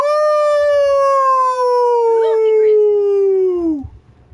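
A dog lets out a loud, close, sustained howl that slides slowly downward over about four seconds, with a brief yipping wobble partway through before it trails off.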